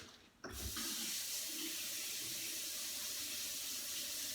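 A kitchen tap turns on after a short pause and runs warm water in a steady, loud, close gush for focaccia dough, continuing without interruption.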